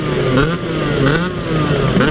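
A 2002 Yamaha F1ZR two-stroke motorcycle engine revs repeatedly, its pitch rising and dropping in quick pulses, loud and close with a rattly, buzzing tone.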